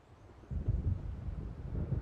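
Storm wind and distant thunder over ocean waves in the video game Alan Wake, a faint low rumble that swells after a quiet start and rolls on unevenly, with no voices.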